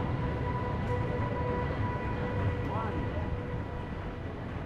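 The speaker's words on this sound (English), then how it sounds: "my train was already coming in." A passenger train pulled by an EL18 electric locomotive arrives at a Norwegian platform on the Oslo to Bergen line, a steady loud rumble with sustained tonal hum and a short rising squeal partway through.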